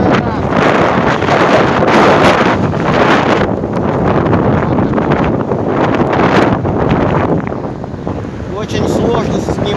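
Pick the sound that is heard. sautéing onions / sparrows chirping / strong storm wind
strong storm wind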